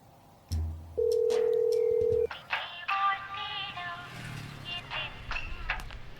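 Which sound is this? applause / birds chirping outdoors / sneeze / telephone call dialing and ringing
telephone call dialing and ringing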